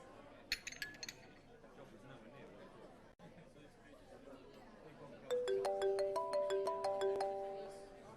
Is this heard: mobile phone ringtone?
yes